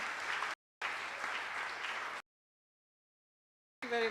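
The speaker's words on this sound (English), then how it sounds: "a round of applause." Conference audience at a young scientists' event applauding in two bursts of steady clapping, broken by a short gap, then silence before a brief sound at the end.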